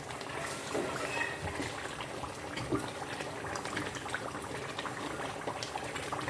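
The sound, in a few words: tomatoes stir frying in a pot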